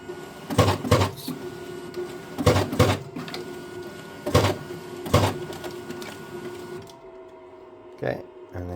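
An A3 Galaxy business card cutter feeding and cutting a card, with sharp mechanical clunks and whirring bursts in uneven clusters over a steady motor hum, close by, ending in quieter machine noise, with a voice talking at times.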